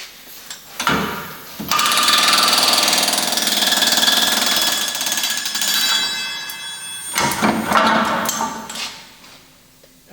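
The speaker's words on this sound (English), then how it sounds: "If there's nothing in the way, an air chisel like this is the answer." Air chisel hammers out frozen torsion bars on a Chevy 2500, a loud rapid pneumatic rattling burst running several seconds, then a shorter second burst after a pause, close up with metallic clatter.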